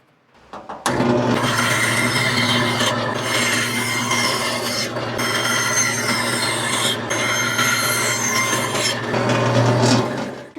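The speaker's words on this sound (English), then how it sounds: "I'm just going to use the bandsaw, come in those 2 slits" A bandsaw cuts two slits into a scrap wood board, a loud, steady rasping drone with a mechanical hum. It runs nearly continuously for about ten seconds with brief dips between passes, and no voices are heard.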